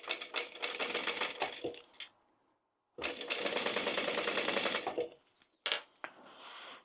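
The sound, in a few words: sewing machine stitching a double row on a bag strap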